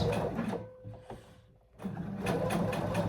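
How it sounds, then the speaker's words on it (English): A sewing machine stitches a cozy autumn dress in bursts. The motor hums close by, drops away briefly in the middle and then runs on again. "I'm going to finish sewing this"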